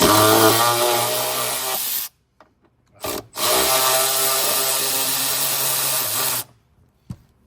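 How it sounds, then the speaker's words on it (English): A power tool drives a T50 Torx bit on the seat belt tensioner bolt of a 2018-2024 Volkswagen Atlas. Two long, loud, close whirring bursts are split by a short pause, with no talking. "I'm gonna go ahead and use my T50 now for the tensioner"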